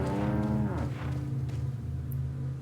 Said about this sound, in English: You can kill the cows.